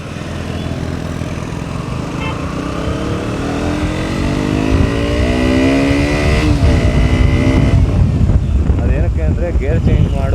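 KTM RC125 motorcycle engine revving up: a loud, close idle rumble that climbs in pitch with throttle, then holds a higher, rougher roar near the end.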